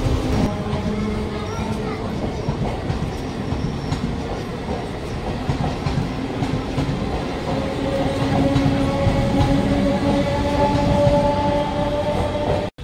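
The Kanchankanya Express on the Siliguri–Kolkata run rumbles along in a loud, steady drone with rhythmic wheel clatter and faint rising tones, heard from inside a carriage, with indistinct voices under the noise.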